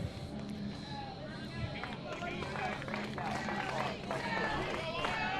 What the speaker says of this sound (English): Kelly's got the crowd chanting her name